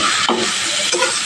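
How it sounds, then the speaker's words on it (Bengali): Cauliflower florets fry with salt and turmeric in a pan over a medium flame, giving a continuous close sizzle with brief stirring scrapes. No one speaks. "একটু হালকা নুন, একটু হালকা হলুদ দিয়ে ভেজে নেব ফুলকপিটা।"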